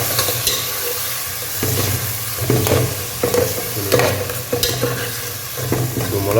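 Tomato and paste frying and being stirred in a pan for a village-style fish curry, a steady close sizzle broken by repeated scraping stirs of the utensil against the pan, with no talk.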